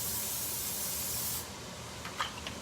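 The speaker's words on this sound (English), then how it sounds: "So we're gonna take the casserole dish. I'm gonna spray it just in case." Cooking spray hisses into a casserole dish in one loud, steady burst for over a second, then stops, followed by faint light clinks.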